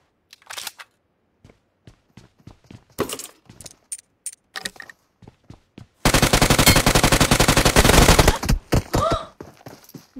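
Video game gunfire: single shots snap out sparsely, then a sustained burst of rapid automatic fire rattles for a couple of seconds before a few more shots.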